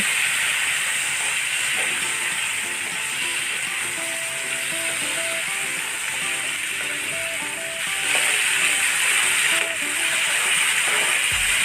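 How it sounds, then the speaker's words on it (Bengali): Potatoes sizzle in hot soybean oil, a steady, even hiss that continues without pause, with faint clinks in the background. "কড়াইতে সয়াবিন তেল দিয়েছি এবং দিয়েছি পরিমাণ মতো লবণ এখন আলুটাকে ভেজে নেব"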